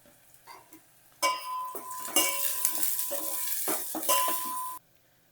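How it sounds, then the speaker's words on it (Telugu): Onion fries in hot oil with asafoetida and turmeric for rasam, quiet at first, then bursts of sizzle with a spoon scraping and clinking against the pan before it cuts off. "కొంతసేపు బాగా ఫ్రై అవ్వాలి ఆనియన్."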